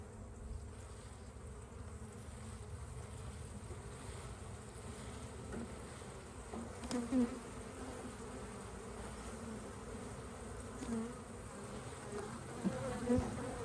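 Honey bees in a hive frame make a low, continuous buzzing hum, faint and steady, with a few brief louder passes near the end and no talk.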